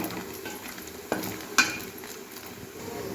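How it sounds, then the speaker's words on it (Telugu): Chicken pieces fry in oil for chicken pickle, a continuous close sizzle broken by a couple of sharp clinks of a utensil stirring against the pan, with no voices. "ముక్కలు గోల్డెన్ కలర్ వచ్చేంత వరకు ఇంకొద్దిసేపు వేయించుకుంటే రెడీ అయిపోతాయి."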